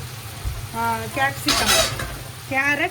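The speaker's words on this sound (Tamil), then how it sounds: "கேப்சிகம், முட்டைக்கோஸ் இதெல்லாம் போட்டுட்டு நல்லா சாட்டே பண்ணிக்கலாம் மக்களே" Carrot, capsicum and cabbage sizzle and get stirred in a hot pan, with scraping and a voice talking over the cooking throughout.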